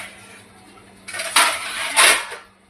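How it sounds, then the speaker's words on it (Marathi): A steel plate is set on top of a cooking pot in a home kitchen, giving two close metallic clanks with a short scrape between them after a quiet start. "त्याच्यामध्ये आपण ताट ठेवूया."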